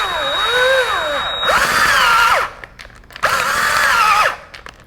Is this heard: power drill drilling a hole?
yes